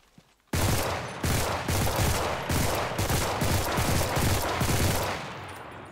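Rapid automatic gunfire in the World War II shooter Enlisted, fired without recoil control: after a brief quiet start, dense, loud bursts of shots run almost continuously in a fast, steady rhythm with short gaps between strings.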